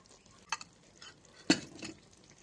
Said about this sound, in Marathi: छान भाजी मिक्स करून घेऊया.